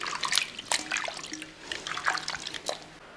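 Chopped potatoes being washed in water: splashing, dripping and trickling water with intermittent sloshes as the pieces are rinsed, close and moderately quiet, with no talking.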